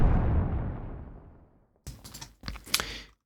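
Layered sound-effect design of a firework turning into an explosion: a big low rumbling boom decays over about a second and a half, then several sharp crackling bursts follow, loud and alone.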